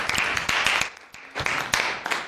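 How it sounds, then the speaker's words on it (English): Audience applause for a guest brigadier general at a JROTC gathering, a crowd of clapping that swells, dips briefly in the middle, then returns at moderate loudness. "give him a round of applause, please."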